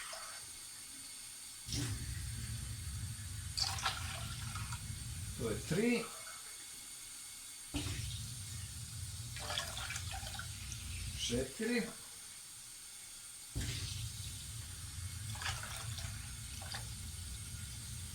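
Water pours into a pot in several separate runs, glass by glass for one litre for polenta, each a steady gush lasting a few seconds, with short pauses and a voice counting between pours.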